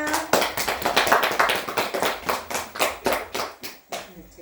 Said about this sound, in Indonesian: Tepuk tangan untuk teman-temannya.